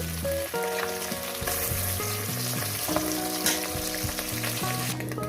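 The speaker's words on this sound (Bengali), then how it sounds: "মাছগুলো আমি এক দু মিনিট করে ভেজে নেব" Small chara pona fish frying in hot oil make a steady, close sizzle that runs throughout, with melodic background music playing over it.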